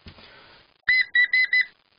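A small survival kit whistle gives four short, shrill toots in quick succession, close by, after a moment of faint rustling.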